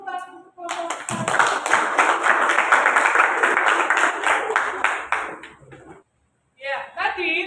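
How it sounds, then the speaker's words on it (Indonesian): Classroom applause as students clap for the first group after its presentation: a few seconds of brisk, fairly close clapping from a small group, with voices talking briefly just before and after. "tepuk tangan untuk kelompok 1"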